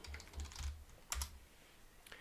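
Quiet keystrokes on a computer keyboard, a few soft scattered clicks with a brief double tap in the middle, fairly close but faint, no voices.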